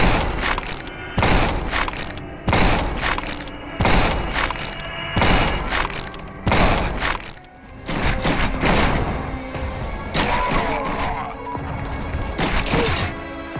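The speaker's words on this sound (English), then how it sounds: "Listen to what they did to my Abyssal Shotgun." Abyssal Shotgun firing in the video game Forgive Me Father, heavy booming blasts at a steady rhythm roughly every second, loud and dense, with game noise filling the gaps.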